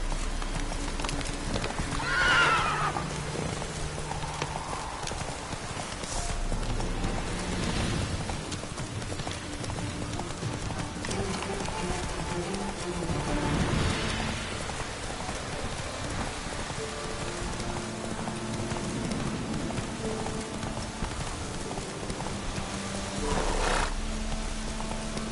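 Roach, a horse in The Witcher 3, gallops with steady clip-clop hoofbeats and lets out a neigh or two, all under a constant wash of rain; no one speaks.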